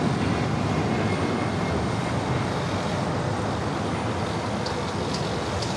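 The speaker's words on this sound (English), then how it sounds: "American A321 coming in from JFK" American Airlines A321 airliner arriving at LAX from JFK, a steady broadband roar heard from a distance, continuous and fairly faint with no clear rise or fall.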